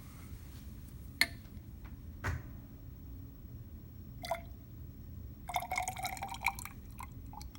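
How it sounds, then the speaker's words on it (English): Water added to a copper chloride solution in a lab, heard as scattered glassy clinks and drips followed by a short splashy trickle of liquid near the end, fairly faint, with no voices. "And now what we're going to do is we're going to add more water until the volume of the solution"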